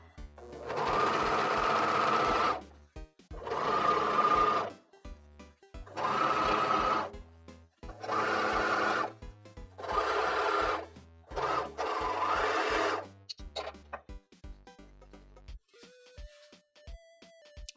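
A serger sewing machine stitches and trims the cut edge of a denim jeans leg, whirring loudly in about six separate bursts with short pauses between them, close by.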